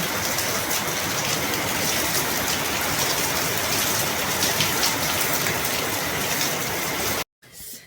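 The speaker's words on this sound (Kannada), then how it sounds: "ನಮ್ಮ ಮೂರು ಕಡೆ ಇಲ್ಲೇ ನೋಡ್ರಿ ಮಳಿ" Heavy rain pours down in Belagavi with a loud, dense, unbroken hiss of drops striking surfaces, continuing steadily before cutting off abruptly near the end.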